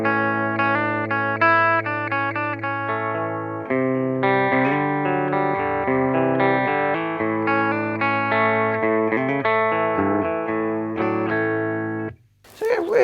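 A Fender Super Champ XD amplifier on its clean channel carries an electric guitar playing sustained chords and picked notes, loud, near and clean, before stopping abruptly near the end.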